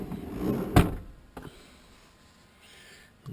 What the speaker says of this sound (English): Toilet slides out.